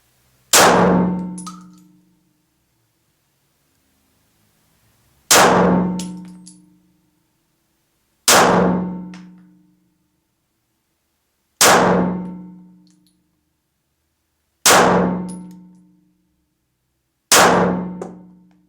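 A Heckler & Koch P7 pistol fires six sharp, loud shots at a slow, fairly even pace, each ringing out and decaying to silence before the next.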